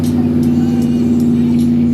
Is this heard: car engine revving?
yes